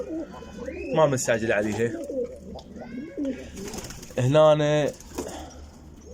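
Pigeons cooing in a loft, with soft, throaty coos and a louder drawn-out call rising close by, while someone speaks briefly over them.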